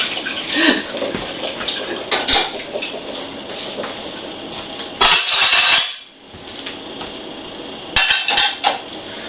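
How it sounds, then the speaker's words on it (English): Dishes being scrubbed in a kitchen sink, with clattering, scraping and splashing bursts under running water that come in clusters, a brief quieter gap in the middle, then more scrubbing noise. "Had these dishes sitting there, so I have to scrub them."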